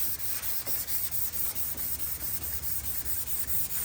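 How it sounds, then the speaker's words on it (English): Block sanding of primer on a Honda S2000 car body panel, a steady rhythmic rubbing with regular strokes about every quarter second, close and fairly quiet, with no voices. "You see how nicely it sands off?"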